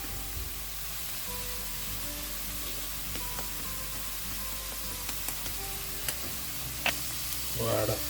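Ingredients for Manchow soup frying in a pan with soya sauce, giving a steady low sizzle under faint background hum, with a few soft clicks and a brief louder rustle near the end.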